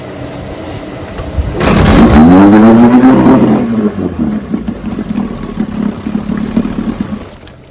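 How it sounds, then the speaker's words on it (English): A vintage outboard motor, unused for years and primed by hand, cranks and fires up with a loud rising whine that settles into a steady idle running close by. "This is one sweet motor. Watch that thing start up."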